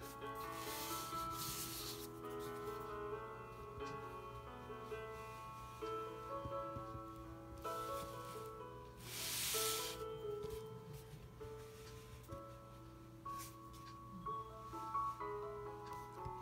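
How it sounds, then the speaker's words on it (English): Crayon drawing on paper, heard as soft, close scratchy rubbing strokes with a faint waxy hiss, coming in uneven bursts over faint background music. "I'm going to use my crayon."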